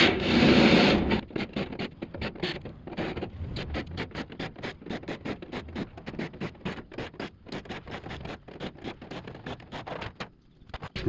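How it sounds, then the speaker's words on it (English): Steel sheeting being worked loose from a balcony frame after its screws come out: a rapid, uneven run of scraping, rattling metal taps that starts with a loud rough burst and goes on for several seconds, close by. "then we can remove this sheeting and see what we got."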